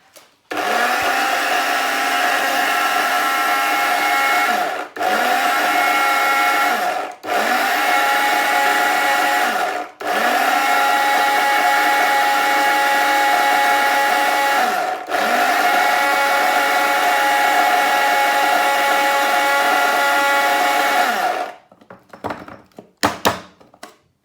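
A blender grinding tablespoons of black pepper and pink Himalayan salt into seasoning, a loud steady whir in several long bursts separated by brief stops and thunks, ending with a few clatters.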